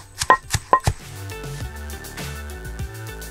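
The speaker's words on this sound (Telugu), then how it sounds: "నువ్వు దంచుతూ ఉండు" Curry leaves, chillies and spices pounded in a mortar for a dry curry-leaf spice powder, with a few sharp thuds near the start before the pounding gives way to duller, steadier kitchen sounds.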